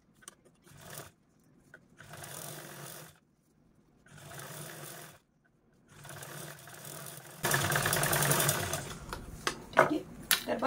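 Sewing machine stitching a zipper onto fabric, running in several separate bursts of a few seconds each with pauses between, then a louder, longer run near the end.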